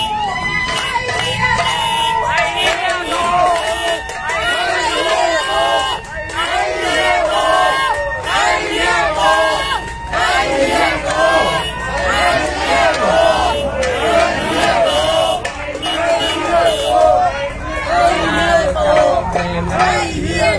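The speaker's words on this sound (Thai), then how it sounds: "ขณะนี้เสียงพ่อแม่พี่น้องกึกก้องเลยนะครับ" A large protest crowd outside Klong Prem Central Prison in Bangkok shouts and chants together, a loud, dense roar of many voices with rhythmic bursts, sustained throughout.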